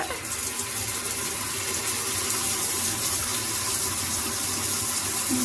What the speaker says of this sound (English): I will put the shower on now and show you how to activate it